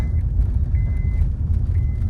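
A vehicle warning chime beeps repeatedly at a steady pace, roughly every half second, over a low engine rumble.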